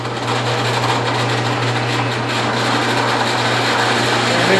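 A small power drill bores entry holes through wood for a scroll saw pattern. It gives a continuous buzzing, whirring drone, close and fairly loud, with no pauses or speech.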